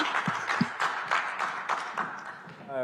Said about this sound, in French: Applaudissements peut-être des candidats